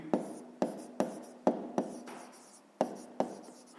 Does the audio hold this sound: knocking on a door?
no